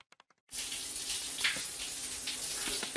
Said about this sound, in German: Lass uns weiterreden, während ich eine dampfige Dusche nehme